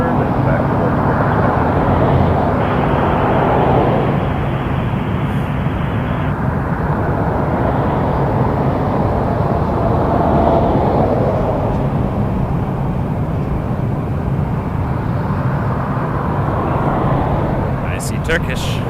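Heavy airliners taxiing at Toronto Pearson airport at night, a constant deep engine rumble and roar with slow swells in loudness, heard at a distance under light background noise.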